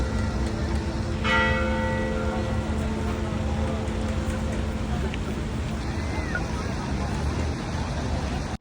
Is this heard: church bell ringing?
yes